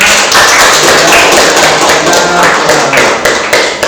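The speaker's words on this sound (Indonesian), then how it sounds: "Tepuk tangan buat kita semua." Classroom students clap together at the end of a lesson, producing loud, somewhat uneven rhythmic claps close by that fill the whole moment without talk.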